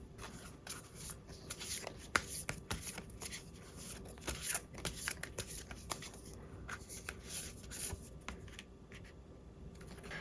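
A deck of tarot cards is shuffled by hand, giving a steady run of soft riffling and slapping bursts with brief pauses between them, close and fairly quiet, with no voices.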